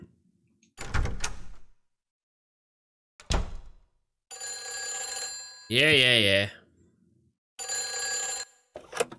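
Phone ringing in the video game Silent Hill 4: The Room, an unconnected telephone giving a few separate electronic ring bursts with gaps between, alongside other game sounds and a brief spoken word.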